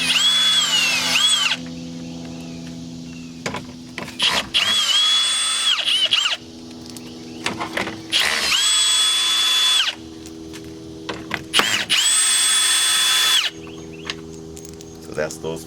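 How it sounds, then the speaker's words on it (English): A power drill fitted with a 10mm socket backs out the headlight mounting screws on an 8th-generation Toyota Camry: four bursts of whining, high-pitched drilling with brief quiet gaps between them, close and loud. "I'm gonna go in with my 10mm socket and remove those 4 screws."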